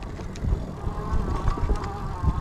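Espin Nesta folding electric bike climbing a steep hill on throttle alone, giving a close, steady motor whir with rumble and wind buffeting over a short stretch.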